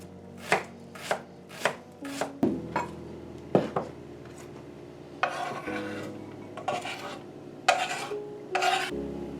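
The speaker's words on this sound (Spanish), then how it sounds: "Vamos a empezar cortando una cebolla al medio y picándola en brunoise" An onion is chopped into brunoise with a knife, about ten crisp blade strikes on a cutting board, close and distinct, spaced unevenly with brief pauses and light scraping between them, no talking.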